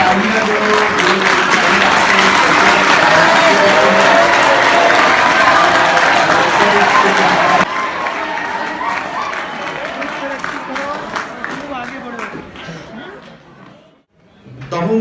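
An audience claps loudly at a class 10 farewell program at an Urdu high school during a best student award; dense applause holds steady, then fades into murmuring chatter and voices before a brief lull.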